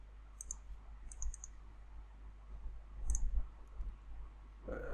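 Computer mouse buttons clicking, a few quick sharp clicks in small clusters at close range, with no talk.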